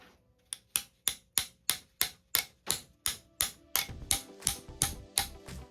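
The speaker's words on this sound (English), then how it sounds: "I'm still using my pliers here. Little taps." Pliers tap metal on a CS144 140-amp alternator part during slip ring and bearing removal, a steady series of about sixteen close, sharp metallic ticks that come slightly faster and denser near the end.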